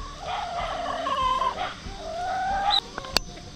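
Hens in a chicken coop during autumn chores: soft, drawn-out clucks and murmuring calls close by, with a couple of sharp clicks or knocks near the end and no talking.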